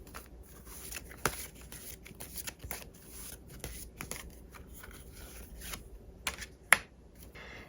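Tarot cards shuffled and drawn by hand, with soft riffling and sliding plus sharp card snaps and taps, close and fairly quiet, with no voices.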